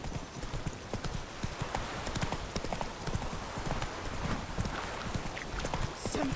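Horse hooves clip-clopping steadily at a walking pace while riding in The Witcher 3, close and continuous over ambient game sound.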